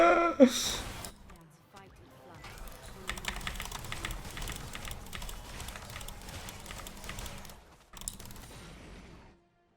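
Rapid clattering keystrokes on a computer keyboard during a game session fill most of the stretch, a dense run of light clicks that stops briefly, with a short burst of a voice at the very start.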